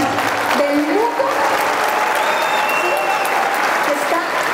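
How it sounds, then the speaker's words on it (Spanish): Steady applause from an audience fills the clip, dense clapping with a few faint voices and whistles mixed in. "Les quiero pedir, por favor, a ustedes un grande aplauso"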